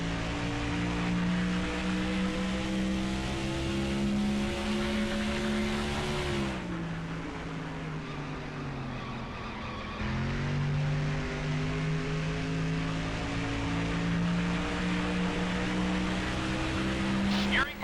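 A race car engine drones at speed during qualifying at Phoenix in NASCAR Thunder 2004, steady and loud with pitch dropping briefly for a corner before climbing back, voice talking intermittently over it.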